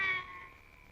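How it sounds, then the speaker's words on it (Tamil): A single short cat meow, fairly close and clear, quickly fading into a quiet room. "இது பூனை"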